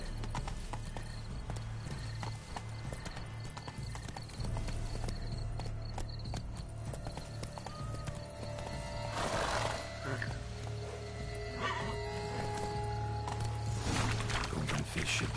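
In the Witcher 3: Blood and Wine game, a horse's hooves clip-clop steadily along with occasional neighs and whinnies, under scattered game voices and ambient sound.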